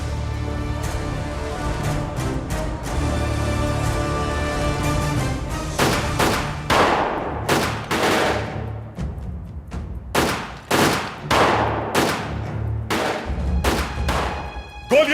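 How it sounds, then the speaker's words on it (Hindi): Repeated gunfire, a dense volley of sharp cracks at first, then separate loud shots and bursts with brief gaps between them. "गोलियां चलाना बंद करो।"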